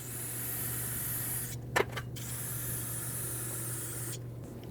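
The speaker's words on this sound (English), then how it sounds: "Now take some brake parts cleaner and rinse all of this down." Continuous close hiss of brake parts cleaner sprayed onto the rear brake of a Mercedes-Benz GLC300, steady throughout with a couple of short breaks where the spray stops and restarts.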